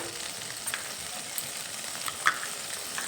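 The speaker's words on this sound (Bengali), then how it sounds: "এবার নেড়ে চেড়ে নেব। বাটা মশলা সব কিছুর সঙ্গে ভালোভাবে মিশিয়ে নেব।" Ground spice paste is stirred in a frying pan, giving a soft, steady sizzle with faint scraping touches and one small sharp click, close and quiet with no voices.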